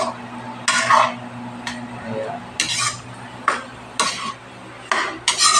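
A utensil stirs beaten egg into sautéed bitter gourd in a pan, giving repeated close scraping and clinking strokes in bursts with a low steady sizzle beneath.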